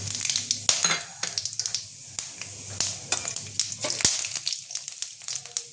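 Whole bay leaf, cardamom, cloves and cumin seeds sizzle in hot oil for Hyderabadi chicken masala, a close, crackling fry with scattered sharp pops and spits throughout.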